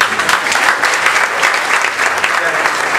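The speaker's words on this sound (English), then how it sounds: "Give her a round of applause." A comedy club audience at an accountants' stand-up contest gives a loud, continuous round of applause that stays close and full throughout.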